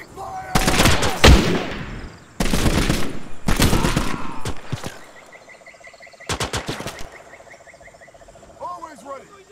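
Machine-gun covering fire in the WWII game Gates of Hell, Pacific theatre: loud rapid bursts of automatic fire in several volleys, with distant shots, insect chirps and a shouted voice between them.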